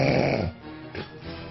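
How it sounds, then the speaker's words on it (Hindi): Loud human snoring echoes through a bedroom, a long rumbling breath at the start followed by quieter, rasping breaths, with nobody talking. "अगर कमरे में खर्राटे की ऐसी आवाज गूंजती रहे तो भला नींद कैसे आएगी?"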